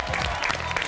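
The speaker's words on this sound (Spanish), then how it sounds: "Aplauso para la gran Silvia Zuller que nos visitó hoy." Studio audience applause on a live Argentine television show, a short burst of clapping with a voice faintly mixed in.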